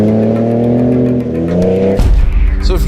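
Twin-turbo V6 of a 2017 Ford Raptor revving loudly up close, the engine note climbing steadily before dropping into a deeper, rougher roar near the end.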